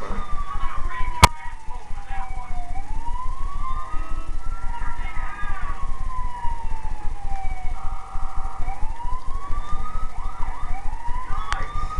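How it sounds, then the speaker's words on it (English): Wailing ambulance sirens in the video game GTA 4 rise and fall continuously over a rumbling engine drone, with several overlapping siren tones and a couple of sharp clicks. "Any kind of sirens you make on the ambulance will still stay same"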